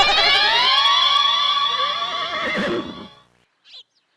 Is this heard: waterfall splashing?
no